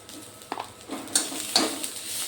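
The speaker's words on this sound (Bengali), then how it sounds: "এখন এটাকে আমি একটু ভালো করে কষিয়ে নেব।" Green chili paste for poppy seed pabda fish is stir-fried in a pan, with a few quiet scrapes and clinks of the utensil over a soft sizzle, all close and brief.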